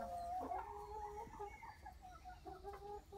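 A broody hen clucks and grumbles in agitated, drawn-out bursts while guarding eggs, close and fairly loud, with no talking.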